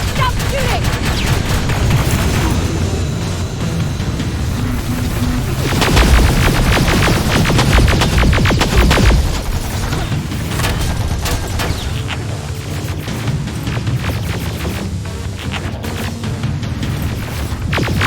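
Dense gunfire in the video game Terminator Resistance, rapid automatic bursts and heavy booms of a firefight, loud and continuous with a swell of rapid shots midway.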